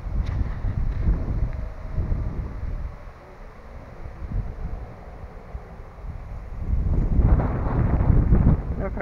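Strong wind outdoors at a fishing spot buffets the microphone with heavy low rumbling gusts, easing through the middle and rising again near the end, with no talk over it.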